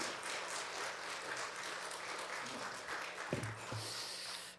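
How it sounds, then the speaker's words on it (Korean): A church congregation at a New Year revival service gives soft, sustained applause to welcome the pastor, heard faintly and at a distance, with a couple of nearby thumps and a short voice-like sound. "목사님께 또 큰 박수로 한번 환영해 주시면 감사하겠습니다"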